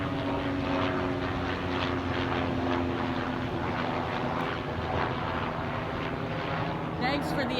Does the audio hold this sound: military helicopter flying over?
yes